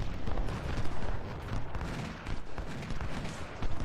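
Continuous, dense battlefield gunfire and rumbling artillery booms fill the mix in the Ultimate General: Civil War game at Bull Run, a steady roar of overlapping shots with no clear gaps.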